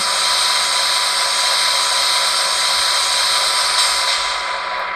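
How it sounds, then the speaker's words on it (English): The sanding valve on a ScaleTrains Southern Pacific SD7R HO model locomotive with LokSound 5 DCC sound gives a steady, loud hiss of escaping air that runs unbroken for several seconds. "Function 18 is the sanding valve, which does play as long as you have it down."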